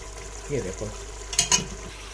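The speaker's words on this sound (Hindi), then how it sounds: "ये देखो बेटा मेरी हांडी हो रही है भून" Meat fries in a handi with ghee and yogurt, giving a soft close sizzle broken by a few stirring scrapes and two sharp clinks of a utensil against the pot.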